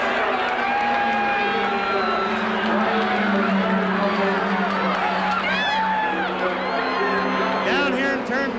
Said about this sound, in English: You should hear the crowd.